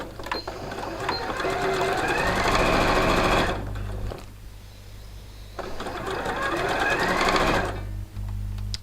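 A domestic sewing machine stitches a seam with a 1.5 centimetre allowance around fabric edges, running in two steady, rapid bursts with a brief pause between, loud and close.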